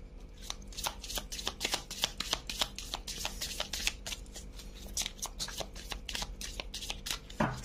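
Tarot cards shuffled by hand, a rapid series of crisp riffling flicks and slaps repeating steadily, close and fairly quiet, with no talking.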